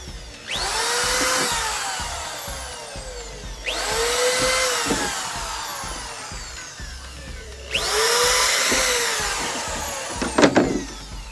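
A power drill whines up and bores pilot holes into wood three times, each burst lasting a couple of seconds, loud and close, with no talking.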